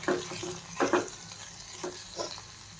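Ginger-garlic paste and coriander stirred in a pan, several soft scraping strokes of a spoon at irregular intervals over a faint low sizzle, fairly quiet with no speech.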